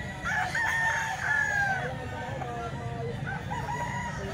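Eight-month-old fighting cock crowing once in a clear, drawn-out call near the start, followed by softer clucking notes over a low background murmur.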